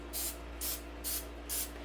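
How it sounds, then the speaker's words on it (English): Olive oil cooking spray is sprayed onto a baking pan in four short, even hissing bursts with brief pauses between them, close and clear over a low steady hum. "I've got some olive oil cooking spray."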